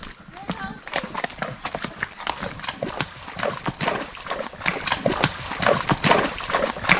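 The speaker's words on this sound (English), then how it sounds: "We are going on horseback ride with Jordan Hollow Stables." Horses' hooves clip-clop in a steady walking rhythm along a trail ride at Jordan Hollow Stables in Shenandoah, close and fairly quiet, with people talking over the hoofbeats.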